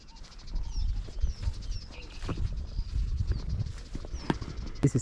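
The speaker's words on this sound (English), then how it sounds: "I love the, like, you know, the sound of the birds." Birds chirp and whistle in short thin calls near a sanctuary in Kenya, scattered over a rumbling, thumping background of movement and low noise.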